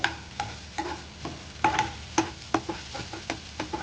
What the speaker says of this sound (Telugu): సన్నగా కట్ చేసుకున్న ఉల్లిపాయలు వేసి కలపండి. ఇప్పుడు హై ఫ్లేమ్లో పెట్టుకోండి